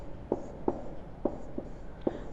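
Pen or pencil writing a word by hand on paper during a children's Hindi grammar lesson, giving a few soft, faint, evenly spaced scratching strokes close by with no talk.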